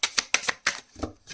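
Tarot cards get shuffled in a quick riffle, a handful of sharp papery bursts close by in an uneven rhythm, the last one softer.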